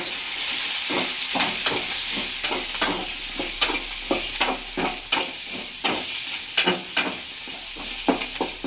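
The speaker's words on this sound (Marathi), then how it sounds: "आता हे सगळं आपल्याला असं मस्त फ्राय करून घ्यायचं." Vegetables for soybean chilli are stir-fried in a hot pan, with a continuous sizzling hiss and a regular rhythm of spatula strokes and scrapes close by, about one per half second.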